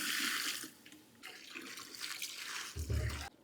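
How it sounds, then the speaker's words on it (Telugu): Measured water being poured into a cooking pot over fried onions for bagara rice, a faint splashing pour in short bursts with a brief low clunk near the end. "ఇప్పుడు కొలత పెట్టి అయితే ఎసురు పోస్తున్నాము"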